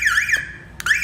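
A Cardot two-way car alarm system sounds loud and close with a shrill warbling siren tone that cuts out briefly and then resumes.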